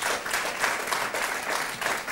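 A studio audience at a car-themed quiz show semifinal applauds steadily, a dense, continuous wash of clapping that stays loud and even throughout with no voices on top.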